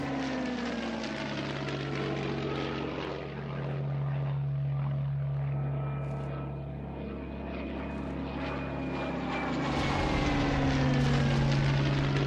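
A Heinkel 111 bomber drones overhead in a steady, loud propeller hum, its engine pitch shifting slowly as it passes, with no voices over the continuous roar.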